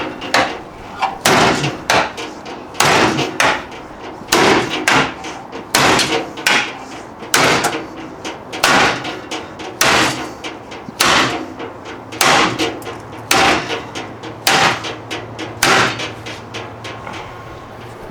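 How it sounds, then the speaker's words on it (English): Work on a 1.8L Miata engine during a pull and teardown gives a long run of sharp, loud metallic bangs and thuds, spaced roughly every second as a part is pried and hammered against rivets or spot welds. "It's just got some rivets or some spot welds that need to break."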